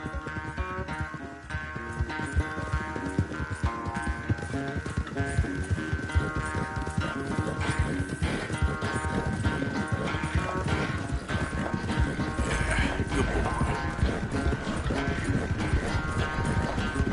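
Horse hooves gallop in Red Dead Redemption 2 during a horse race, with a steady, rapid clip-clop beat running through the whole stretch, loud and close, mixed with music-like tones and no clear speech.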